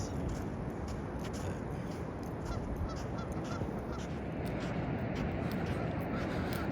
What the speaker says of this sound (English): Canada geese that think they are gulls.